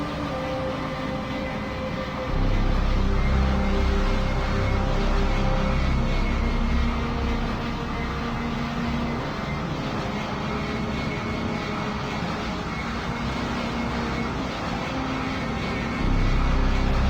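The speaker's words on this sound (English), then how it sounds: "the Airbus A330 lifted off Brazilian tarmac, hoping for an arrival in Paris" An Airbus A330's engines roar steadily at high power during takeoff in the PTFS flight video game, a long, dense, sustained thrust with a rising whine, no voices.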